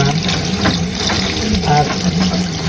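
Tap water runs steadily into a sink while tilapia is washed, a constant close gush with faint splashing and no break.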